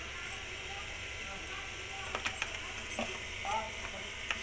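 Spices being lightly fried in oil for Sindhi sagh, heard as a soft, steady sizzle with light scraping and occasional ticking stirs against the pan, faint and close.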